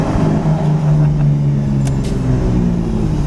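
A Toyota Supra with a muffler-delete exhaust at a car meet gives off a loud, steady low engine rumble and drone that holds throughout, with no clear rev spikes.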